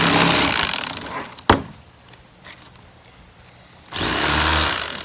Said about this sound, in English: That was some big old bones that knife just went through.